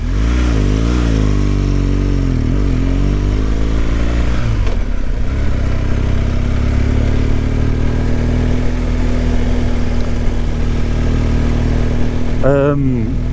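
A BMW R1200GS motorcycle rides a country road between Pateley Bridge and Bolton Abbey, its engine rising and falling through gear changes at first, then holding a steady cruising drone under heavy rushing wind, loud and close throughout.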